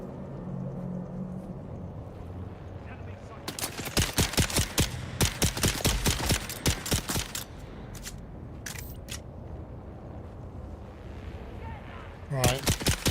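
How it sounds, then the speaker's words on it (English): Rapid bursts of gunfire in the Dune Awakening video game, a dense volley of sharp cracks over several seconds followed by scattered later shots, with game ambience and a voice talking before it. "Who's shooting us?"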